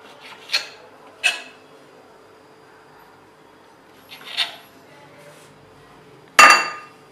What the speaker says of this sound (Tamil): 4 பக்கம் ஓரத்தை கட் பண்ணிவிட்டு சின்ன ஸ்லைஸாக கட் பண்ணி எடுத்துக்கோங்க பிரெட்டு